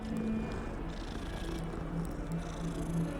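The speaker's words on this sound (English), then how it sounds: "Pet the kitty." A cat in the video game Hogwarts Legacy purrs close up, a soft continuous rumbling purr with gentle pulsing over quiet background ambience, no speech.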